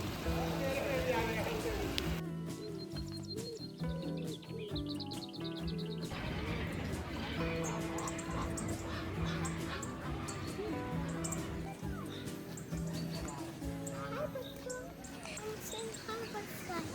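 Many birds chirp and call throughout the world's largest walk-through aviary, holding over 1,000 birds, a dense layered chorus of tweets and calls at varied distances, with people talking over it.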